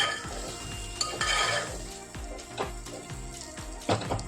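Spoon stirring potatoes and stuffed aubergine curry with salt and chilli in a pan, steady scraping and clinks of utensil against metal over a soft sizzle, with a few sharper knocks, no talking.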